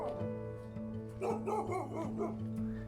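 A dog barks and yips in several short bursts over a steady low hum at an animal centre on Koh Lanta, Thailand, fairly close, with a whiny edge between barks.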